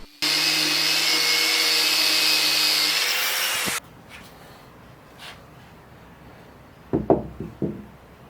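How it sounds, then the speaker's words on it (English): A power sanding disc smooths the base of a hand-carved walnut bowl, a loud whirring grind lasting a few seconds before stopping abruptly, followed by quiet room noise and a few knocks. "Here I returned to the base to use this sanding disc to smooth it out."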